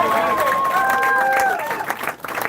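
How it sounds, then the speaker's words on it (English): Campaign-event audience in Lebanon, New Hampshire applauding briefly, a crowd clapping and cheering close by with a voice ringing over it before fading. "Can we give Vince a round of applause, please?"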